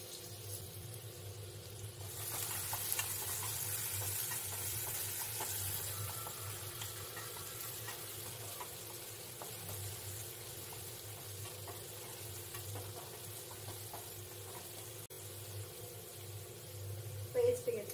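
Curry leaves frying in hot oil in a pan for Malvani kaleji masala, a steady bright sizzle that flares up after a quiet start and continues with low kitchen noise and faint voices.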